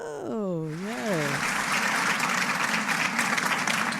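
An audience claps in steady, dense applause that fills most of the stretch after a short sung or spoken phrase at the start.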